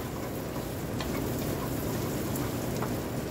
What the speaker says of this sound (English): It's raining pretty good out there